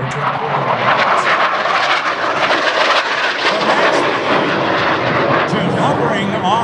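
McDonnell-Douglas AV-8B+ Harrier II jet at an air show, a loud, continuous broadband engine roar that fills the whole stretch, with an announcer talking over it.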